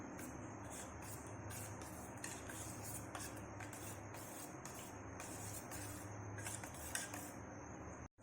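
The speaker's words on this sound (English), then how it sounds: "Now we'll mix it." Plum cake batter with vanilla essence is mixed in a bowl, producing a fast, steady run of faint scraping and utensil clinks against the bowl, rhythmic and continuous until a sudden stop at the end.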